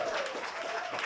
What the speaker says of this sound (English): Give that up a round of applause